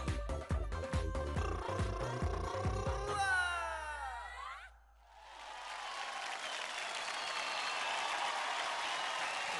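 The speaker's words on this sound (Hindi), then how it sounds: "जोरदार तालियां हो जाए" Following a children's dance performance on a televised dance competition, music ends with a swooping effect, then a studio audience breaks into broad, sustained applause and crowd noise that holds steady to the end.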